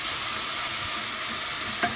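Steady hiss of onion and garlic sizzling in a hot pan with occasional stirring scrapes, continuous and close.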